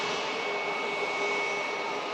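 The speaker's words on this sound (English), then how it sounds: "It's a Bombardier Global 7500 Indian registered aircraft" A two-year-old Indian-registered Bombardier Global 7500 business jet produces a steady, fairly loud broadband engine roar that holds evenly from start to finish, with no talk over it.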